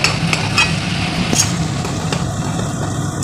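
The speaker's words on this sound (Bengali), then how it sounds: "সেম কড়াইয়ে তেল দিয়ে বাটার দিয়ে করছি এর মধ্যে রসুন কুচি" Chopped garlic frying in butter and oil in a wok produces a loud, continuous sizzle close up, with a few spatula scrapes and clicks over a low background hum.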